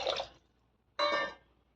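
Water poured into a pan of cooked-down tomato paste for tomato rice, two short splashing pours separated by a brief pause, close and fairly quiet.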